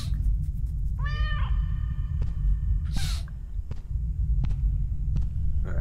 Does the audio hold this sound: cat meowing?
yes